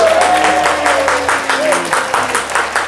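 A studio audience applauds with rhythmic clapping in a television show setting, loud and close, while a voice talks over it.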